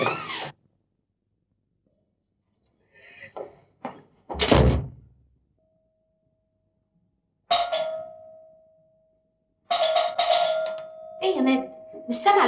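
Knocking on the front door of an apartment: a few soft raps, then a sharp loud knock, followed later by a ringing doorbell tone as voices talk.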